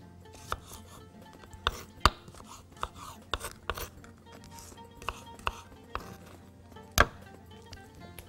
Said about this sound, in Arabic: هنجيب الخيار نقطع بنفس السكينة